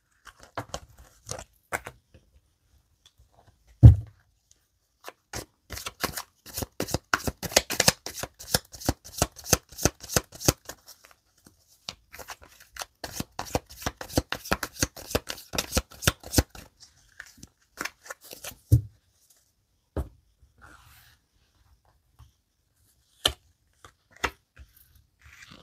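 Tarot cards are shuffled by hand for a love reading, bursts of rapid riffling clicks in close-up, loud and crisp, grouped into several runs with quiet pauses between.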